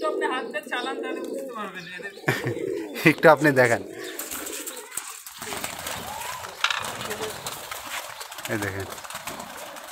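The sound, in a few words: Rajshahi local Geribaj tumbler pigeons cooing and flapping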